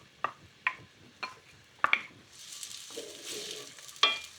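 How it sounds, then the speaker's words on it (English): Onion and garlic drop into extra virgin olive oil in a hot pan: a few sharp clinks and taps, then a steady close sizzle that swells and holds to the end. "onion and garlic, gonna go into the pan"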